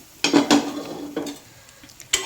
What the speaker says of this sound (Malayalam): ഇങ്ങനെ നിങ്ങൾ പതുക്കെ പതുക്കെ ചട്ടിയിലിട്ട് ഇളക്കി ഇളക്കി എടുത്തു കഴിയുമ്പോൾ